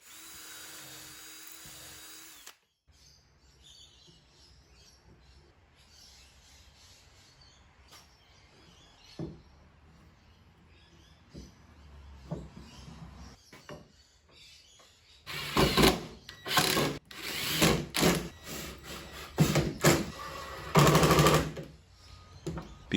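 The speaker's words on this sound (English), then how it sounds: "I made sure to drill pilot holes for the screws, especially in this very dense old hardwood" A drill bores pilot holes for screws in very dense old hardwood, heard as several loud, close bursts of whirring that start and stop in a quick irregular run after a quieter stretch of scattered workshop noises.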